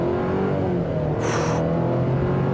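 A 2023 Chevrolet Colorado Trailboss pickup at full throttle, its engine a loud, close, rising roar with a brief high whine partway through.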